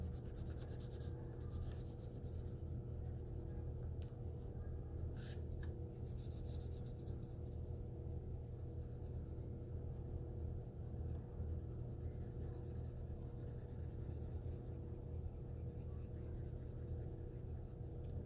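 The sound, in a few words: marker colouring on folded paper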